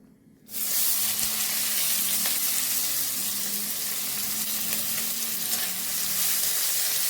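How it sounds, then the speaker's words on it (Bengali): Onions frying in hot oil in a pan, a loud continuous sizzle that bursts in sharply after a brief quiet start and holds steady with faint stirring scrapes. "এটাকে আমি একটু লাল লাল করে ভেজে নিই"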